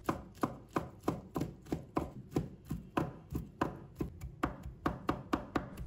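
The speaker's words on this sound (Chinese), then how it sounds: "再准备一把木耳，把它切成小粒，尽量把它切细一点" Knife chopping soaked wood ear fungus into small pieces on a cutting board for a soup, with steady rapid close taps repeating evenly throughout and no talking.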